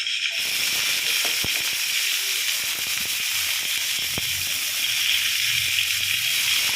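Onion and capsicum strips dropped into hot oil with cumin tempering in a pan, a loud steady hiss and sizzle starting abruptly and continuing with small crackles and stirring clinks.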